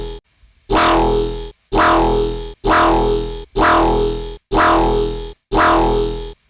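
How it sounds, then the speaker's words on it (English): Synth sound with subtle overdrive distortion: six sustained, evenly spaced notes, each starting with a bright attack and holding a warm, gritty tone before stopping short, separated by brief silences, loud and alone. "like the subtlety of the overdrive"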